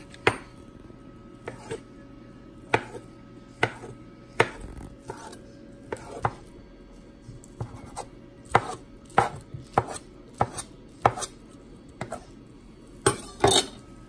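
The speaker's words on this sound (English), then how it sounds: "if you want nice clean ends, you could just cut the ends off" A knife chops through rolled egg ribbons on a cutting board, a long series of crisp, close taps in an uneven rhythm, some landing in quick pairs, with no talk.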